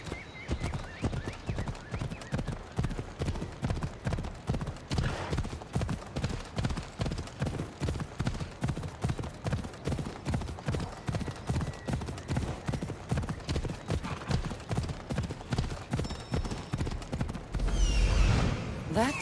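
Steady rhythmic clip-clop of galloping horse hooves in Assassin's Creed Odyssey's Fate of Atlantis, Fields of Elysium, runs throughout, loud and close, with a short burst of other noise near the end.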